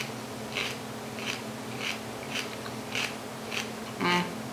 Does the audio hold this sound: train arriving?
no